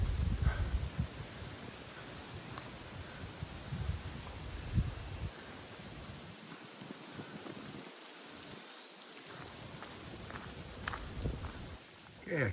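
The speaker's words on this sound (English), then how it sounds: "The wind has picked up really good now, and which is nice because it's blowing all the bugs away." Wind blowing along a forest trail in rain, a broad rushing wash with gusty low rumbles and patter, a few brief lulls, and faint footsteps underneath.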